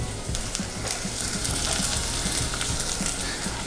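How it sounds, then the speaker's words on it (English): Steady, close sizzling of onions frying in a hot pan, a continuous crackling hiss with occasional pops and light stirring. "Nice sizzle there."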